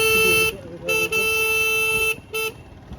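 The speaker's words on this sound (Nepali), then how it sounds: "म चाहिँ हरान हानेर" A motorcycle horn on a village road honks in several short, bright bursts of varied length, loud and close, with rough road and engine noise beneath.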